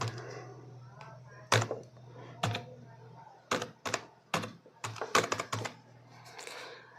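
Keys on a computer keyboard tapped in short irregular bursts while a date of birth is entered into an online MSME Udyam registration form, with quiet gaps between clusters of clicks over a steady low hum.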